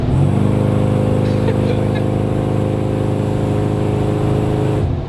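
LS3-swapped classic Chevy Blazer V8 running steadily with a smooth, continuous drone and even harmonic hum, loud and close throughout, with no speech over it.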